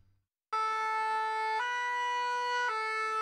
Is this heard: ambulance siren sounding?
yes